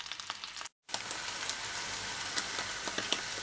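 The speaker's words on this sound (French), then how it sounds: "Dans le beurre, je fais revenir mon maki sur toutes les faces pour dorer la viande." Beef maki rolls brown in butter in a frying pan, giving a steady, close sizzle with small pops that cuts out briefly near the start, then resumes.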